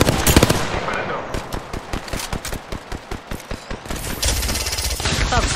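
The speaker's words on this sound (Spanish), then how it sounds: "Disparando." Firearm gunfire in the battle royale game Apex Legends: a rapid, evenly spaced automatic burst of about a dozen close, loud shots, framed by denser clattering fire before and after.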